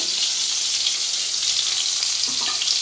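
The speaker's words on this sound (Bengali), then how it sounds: "এই যে আলুগুলো ভাজতে বসিয়ে দিয়েছে" Potatoes frying in oil for chicken biryani, a loud, dense, continuous sizzle close up with a faint scrape near the end and no voices.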